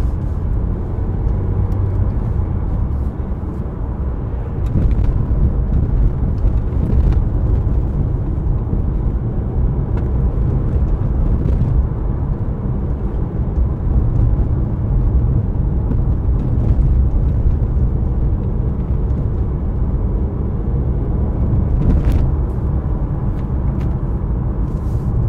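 A Peugeot RCZ driving on country roads through Hoghton and on the M65 motorway, heard from inside the cabin as a loud, steady low rumble of engine and road noise with a few faint knocks and no talking.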